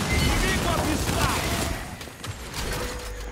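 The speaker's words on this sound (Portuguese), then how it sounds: "Um tiro, Dom." Dense gunfire from the shooter game Gears 5 crackles in a steady barrage, loud and continuous, with players chatting over the shots.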